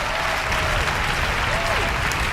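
Steady cartoon crowd applause roars at a constant loud level for the whole stretch, with dense overlapping clapping and no breaks.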